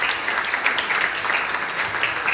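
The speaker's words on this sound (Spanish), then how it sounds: "Reitero nuevamente el aplauso a la cooperación" An audience at the inauguration of a migrant support center claps steadily in a short, dense burst of applause, even and sustained throughout with no voices standing out.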